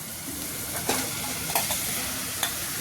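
Mixed vegetables for pav bhaji tipped into a hot frying pan and stirred, giving a steady close sizzle with a few sharp scrapes and knocks of the spoon against the pan.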